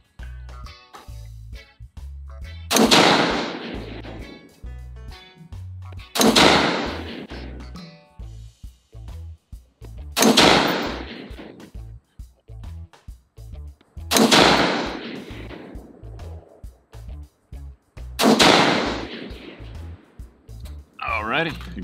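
A Caracal CAR816 A2 piston-operated AR-15 rifle fires Gorilla 77-grain .223 ammunition. Five loud, sharp shots come at spaced intervals of about four seconds, each trailing into echo, over a steady low background.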